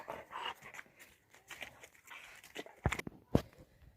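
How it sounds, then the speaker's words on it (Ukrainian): A large dog pants and shifts about on foot, with soft breathing and light steps at moderate volume and a couple of sharper bumps near the end. "Ти у нас велика собака."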